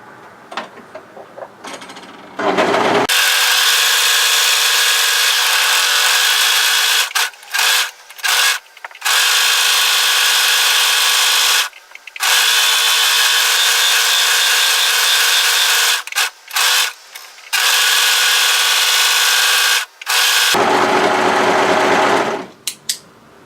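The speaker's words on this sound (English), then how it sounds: "I'm going to overlock all the way through to the notch here." Overlocker stitching through fabric hoodie pieces, running in several loud continuous bursts with short pauses between, steady mechanical whir close up.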